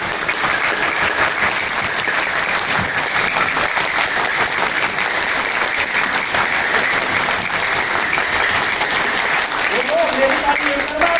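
Seminar hall audience clapping and applauding, a loud, dense, sustained patter of many hands filling the room, with faint voices near the end.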